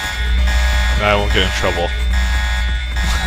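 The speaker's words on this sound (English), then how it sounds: "you're gonna have to deal with the alarm going off, which is really annoying" A continuous buzzing alarm in the video game Deus Ex, set in an underground area, drones steadily at moderate loudness underneath a voice.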